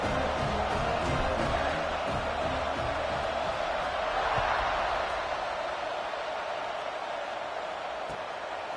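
A stadium crowd in an NCAA college football video game, Michigan vs Ohio State, keeps up a steady, distant roar of cheering through a kickoff, with no clear peaks.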